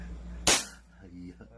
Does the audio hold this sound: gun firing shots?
yes